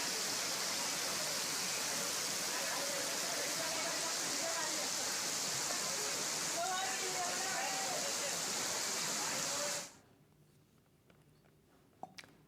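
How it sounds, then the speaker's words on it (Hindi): Heavy torrential rain pours down steadily in a flooded Rajasthan street, a dense wash of broadband hiss with rushing water, continuing for about ten seconds before cutting abruptly to near quiet with a couple of faint knocks. "लगातार मूसलाधार बारिश यहाँ पर हो रही है।"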